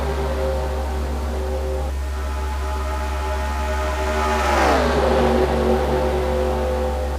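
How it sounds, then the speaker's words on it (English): Race cars circle Talladega in a racing video game, with a steady, loud engine drone and a sustained whine that sweeps downward midway, as if passing, with no talk over it. "Daniel Day is going to lead the first lap."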